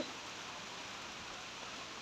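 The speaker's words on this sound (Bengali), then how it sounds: "প্রচুর বৃষ্টি নেমে গেছে" Steady, dense hiss of rain falling without a break, an even wash of noise that stays the same throughout.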